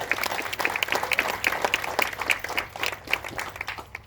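A crowd claps at a neighborhood center grand opening ceremony, dense steady applause with many overlapping hand claps holding at a roughly even level for the whole stretch, no talking over it.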